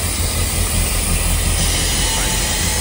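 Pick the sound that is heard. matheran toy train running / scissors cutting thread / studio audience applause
matheran toy train running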